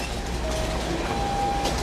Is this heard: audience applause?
no